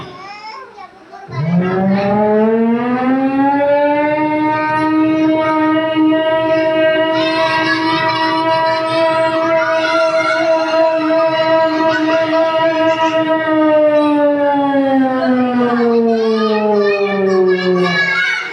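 A voice imitates a siren with one long, loud wail that rises, holds steady for many seconds, then slowly falls away.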